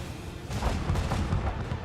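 Macro cannon volley fired in the video game Warhammer 40K: Rogue Trader, a run of heavy booming blasts in quick succession over a dense rumbling bed, loud and continuous.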